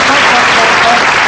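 Studio audience at a televised magic show applauding a newly picked assistant, a loud, dense burst of clapping that fills the whole moment evenly without pause.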